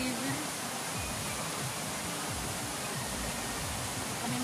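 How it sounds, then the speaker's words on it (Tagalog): Floodwater rushing in a strong current, a dense steady roar of churning water, loud and unbroken throughout with low gurgling underneath. "sobrang lakas ng agos oh"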